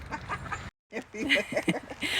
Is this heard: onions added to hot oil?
no